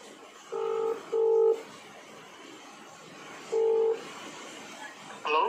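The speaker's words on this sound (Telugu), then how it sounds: "అతనికి ఫోన్ చేసి" Telephone keypad dialing tones, three distinct electronic beeps in an uneven sequence, clear and close against quiet background hiss.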